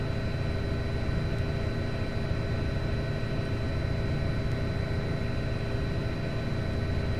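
A Bell 206B helicopter engine in Flight Simulator hums and whines in a steady, unbroken drone, fairly loud and heard alone.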